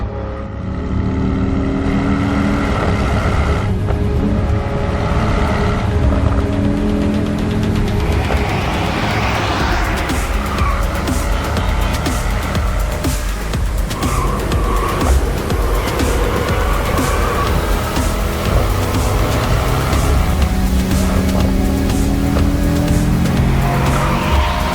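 Several 2021 Mercedes-AMG E63 cars roll up close and loud, engines rumbling and tyres squealing over a steady, dense drone that swells and fades as they arrive, with no talk.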